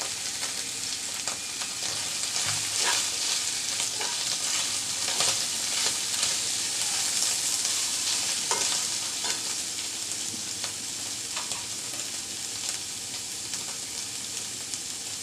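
Ginger, chopped onion, chicken and green chilli fry and sizzle in a pan, a dense, steady crackling hiss with occasional stirring scrapes throughout, close and without speech.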